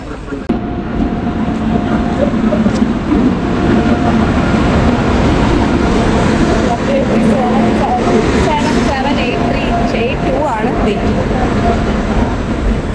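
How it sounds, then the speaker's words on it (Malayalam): A sleeper express train pulling into a station on the Katpadi to Ernakulam route, a loud, continuous rumble of wheels and carriages close by, with people talking over the noise throughout. "അങ്ങനെ നമ്മുടെ ട്രെയിൻ ഡേ വരുന്നുണ്ട്."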